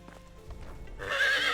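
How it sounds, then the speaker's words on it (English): Horse in the medieval survival game Medieval Dynasty, a young colt newly acquired, gives a single short whinny rising out of low hoof clatter, fairly quiet and heard alone. "this is a new horse I picked up"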